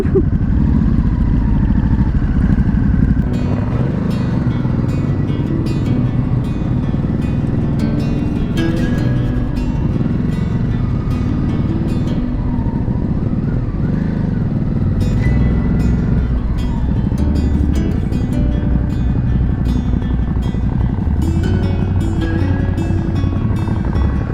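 A Ducati Hypermotard SP motorcycle engine drones steadily and loudly throughout the ride, with wind rush and occasional sharper rises in revs layered over a constant low rumble.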